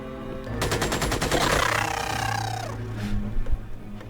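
A kneeling machine gunner in the alien-combat strategy game Xenonauts opens fire, a rapid rattling burst of shots lasting about two seconds, followed by a few scattered, quieter reports.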